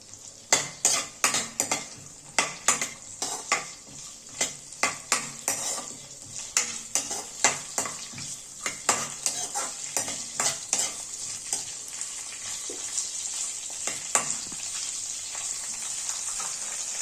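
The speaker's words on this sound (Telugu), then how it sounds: "ఇప్పుడు గ్యాస్ ఆన్ చేసుకుని ఆయిల్ పెట్టుకుని ఆయిల్లో ఈ పోపులన్నీ వేసుకోవాలి" Tempering spices crackle and sizzle in hot oil for lemon rice, with a rapid series of sharp metal spoon clinks and stirring scrapes against the pan, close up over a constant hiss.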